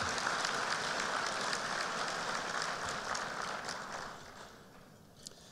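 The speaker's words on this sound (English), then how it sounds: "Let's give a round of applause for all the sponsors for making this event successful for 25 years." Audience at a business forecast event applauding the sponsors, a steady wash of clapping from a crowd that slowly fades toward the end.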